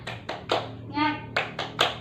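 Children in a classroom perform the tepuk semangat chant, a few sharp rhythmic hand claps broken by a short sung or shouted voiced syllable in the middle, close and moderately loud.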